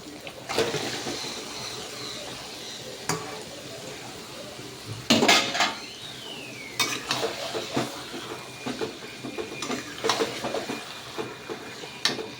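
Chicken pieces go into a pan of softened, melted tomatoes and cook with a soft sizzle, interrupted by several sharp scrapes and stirring clatters of a utensil against the pan, while a voice talks over it.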